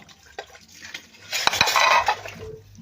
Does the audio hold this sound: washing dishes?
yes